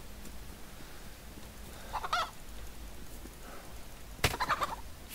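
A hen in the survival video game DayZ clucks and gobbles in a few short bursts, two clustered calls early and a louder flurry near the end, over a steady low in-game background hum.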